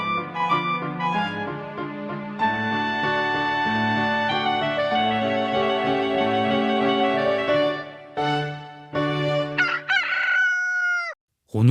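A rooster crows loudly and up close, a long harmonic cock-a-doodle-doo that sweeps through several rising and falling calls, broken by short gaps, and ends in a brief final crow before silence.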